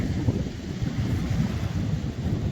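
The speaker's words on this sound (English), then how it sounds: "but it's very windy here on the beach." Strong coastal wind buffets the microphone on a beach at low tide, a loud, constant rumbling roar with no break for the whole stretch.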